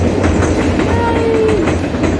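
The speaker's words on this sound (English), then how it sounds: "we timed it perfectly, capturing the northerner train crossing over the" The Northerner passenger train crosses the Makatote viaduct in New Zealand, a steady, loud rumble of wheels on rails with a brief squealing tone rising above it midway through.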